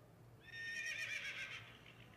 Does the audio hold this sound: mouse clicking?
no